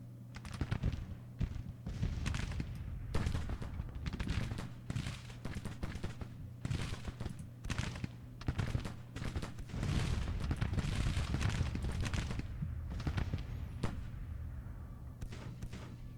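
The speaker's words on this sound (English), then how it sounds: "We're still taking casualties from their rifle fire." Massed rifle volleys in a Civil War battle at Bull Run in the Grand Tactician strategy game, crackling irregular shots over a low rumbling drone for a long stretch, steady and fairly loud, with no speech.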